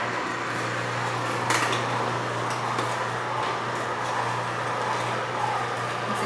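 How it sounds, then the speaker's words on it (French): A slow juicer's screw crushes food, making a steady low mechanical hum with a constant motor drone, soft grinding and occasional light clicks and knocks, close and moderately loud, without talk. "La vis va les entraîner avec elle pour les broyer"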